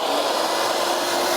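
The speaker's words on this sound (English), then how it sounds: "now I'm going to turn the vacuum on" A vacuum seeder's vacuum runs as a loud, steady rushing whoosh, close and unbroken, with no talk.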